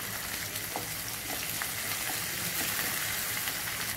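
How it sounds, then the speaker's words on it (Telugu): Dried red chilies sizzle and crackle steadily in hot oil, a continuous close frying hiss with small pops scattered throughout and no talking. "ఇదిగో అమ్మా ఎండుమిరపకాయ వేస్తున్నాను"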